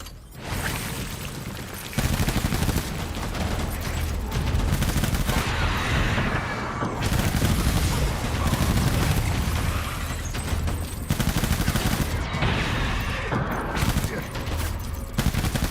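Sustained gunfire in Death Stranding 2, long bursts of rapid automatic shots with a few short breaks, loud and close, with mechanical clatter underneath.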